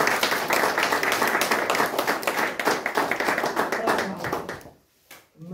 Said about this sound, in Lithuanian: Tai mūsų dar kartą didžiuliai plojimai garsus.